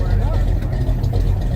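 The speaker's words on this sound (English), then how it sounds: "This car's back here growling." A car engine growling at a Summit Racing car meet, a low steady rumble running throughout under people talking.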